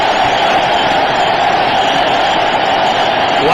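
Stadium crowd at a cricket match roaring and cheering continuously after a boundary, a dense, loud, sustained wash of voices with no break.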